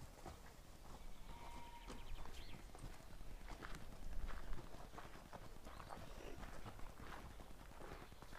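Clydesdale horse's hooves clip-clop steadily on hard ground while it walks around a zoo past the meerkat enclosure, a continuous rhythmic clatter close by with soft outdoor ambience.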